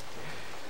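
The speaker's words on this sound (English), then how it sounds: "Maybe our friends came in here to take shelter from the rain" Rain ambience in the platform video game BattleBlock Theater, a brief dense hiss of falling rain, steady and even with no voices.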